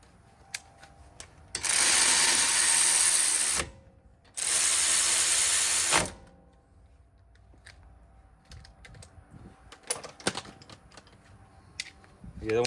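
A hand ratchet tightens 14 mm brake caliper bolts on a 2007-2011 Honda CR-V, two loud sustained bursts of rapid clicking close up, followed by quieter scattered tool clinks and handling.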